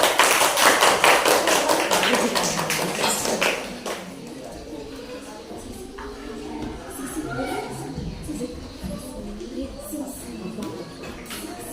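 Primary school students in a classroom clap their hands, a dense burst of applause lasting a few seconds before fading into quieter room shuffling and murmuring.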